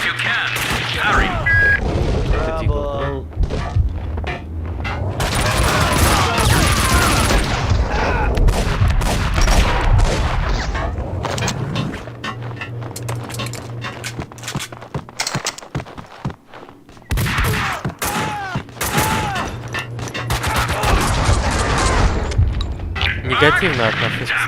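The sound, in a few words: gunfire in video game Max Payne 2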